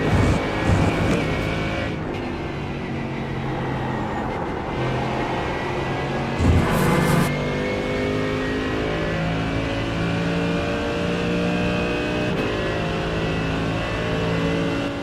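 Race car engine in a sim racing game revving hard and accelerating, a continuous loud drone with rising harmonic tones, a brief dip near the start and a lift-and-reapply surge partway through.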